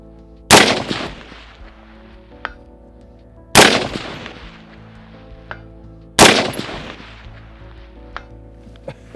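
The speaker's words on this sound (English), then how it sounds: "Let's go ahead and shoot it at 500." Three loud, sharp rifle shots from a Geissele URGI fired at a 500-yard target, evenly spaced about three seconds apart, each with a long rolling echo tail and faint distant impact ticks between shots.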